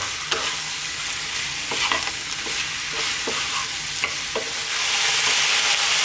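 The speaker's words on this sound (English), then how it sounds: "on a fairly lively heat, we're going to cook this for about 5 to 6 minutes, stirring. often." Chicken and mushrooms frying over lively heat for a chicken potato pie, a close bright sizzle broken by repeated spoon-scraping stirs, the frying swelling louder near the end with no talk.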